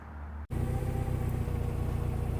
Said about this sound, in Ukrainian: Далі спускається до нас кубота в дуже гарній комплектації L1 195.